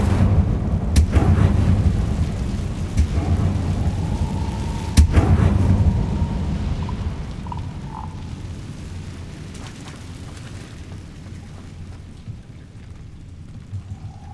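The Incendio fire spell in Hogwarts Legacy sounds with loud bursts and crackles over a rumbling game ambience, followed by a few small tonal chimes as the sound gradually quiets.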